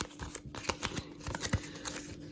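Board game cards from a Resident Evil 2 deck are shuffled close up, a rapid run of papery riffles and taps lasting a couple of seconds with no voices.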